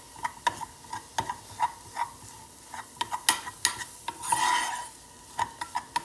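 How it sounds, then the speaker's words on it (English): Wheat flour halwa being stirred in a pan, with a rhythmic series of sharp spoon scrapes and taps against the metal over a faint sizzle, close and distinct, one longer scraping sweep near the end. "You got to stir it for at least 4 minutes, say about 4 minutes, until any of the raw smell or raw texture goes off."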